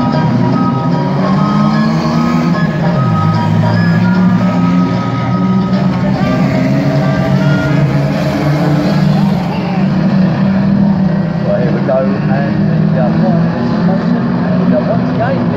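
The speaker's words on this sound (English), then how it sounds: "our top three are about to climb aboard the back of the Speedway pace car then" A speedway pace car carries the top three riders on a lap of honour at a raceway anniversary meeting, a loud, continuous engine drone with shifting pitch under excited commentary and crowd noise.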